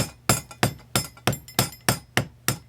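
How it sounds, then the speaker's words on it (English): A ball peen hammer's round face lightly taps the outer edge of a metal tube to flare it into a rivet: eight sharp, evenly spaced metallic strikes with bright ringing decay, close and alone. "just use the round part of your ball peen hammer and lightly tap on the outer edge of the tube"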